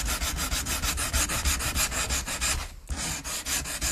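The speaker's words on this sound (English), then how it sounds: "we're just going to keep sanding, I guess" A Soldier 76 prop is sanded by hand in steady, rhythmic back-and-forth strokes, a loud close gritty rasp that repeats roughly every quarter second, with one brief pause before the scrubbing resumes.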